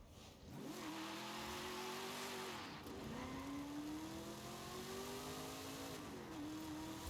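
A Ford Mustang engine in Forza Horizon 5 rally racing revs up through gears, rising whines with quick dips at each shift, steady and prominent, with tire noise underneath.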